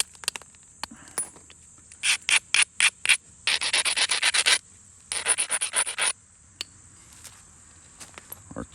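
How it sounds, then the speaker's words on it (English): A flint edge being beveled by abrading during flintknapping: a close, dry scratching that rasps in quick rhythmic strokes, first as separate scrapes and then as two sustained bursts of rubbing, with quiet pauses between them. "So I'm just going to bevel this edge."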